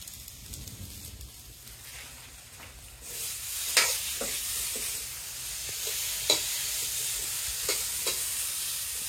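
Potatoes and eggs frying in a pan in a Bangladeshi village kitchen, a soft hiss that swells into loud sizzling, with sharp scraping clicks of stirring scattered throughout.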